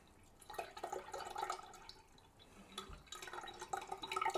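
Cloudy homemade apple cider vinegar, made from chopped organic apples, poured through a sieve, giving irregular trickling and dripping in two close, moderately quiet bursts with a short lull between.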